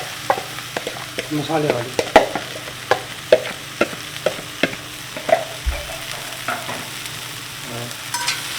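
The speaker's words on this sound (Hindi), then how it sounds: "गैस पर रखी है कास्ट आयरन की कढ़ाई, और इसमें हम ऐड कर देते हैं अपनी भिंडी" Spiced okra frying in a cast iron kadai over a gas flame on high heat, a steady sizzle broken by repeated sharp scraping clicks of stirring, with a few brief spoken words.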